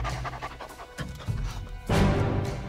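A dog pants in quick, rhythmic breaths close by, with a louder burst of breathy noise toward the end.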